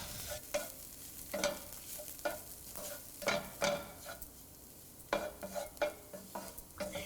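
Turmeric and Kashmiri chili powder sauté in a pan, with a soft sizzle broken by repeated scraping strokes of a spoon stirring the spices, close and alone without talk.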